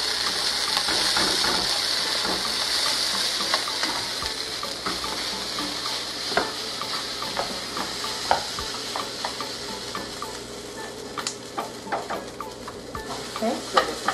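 Brown rice pilaf sizzles steadily in a pan, a continuous close frying hiss with scattered crackles and the clink of stirring throughout.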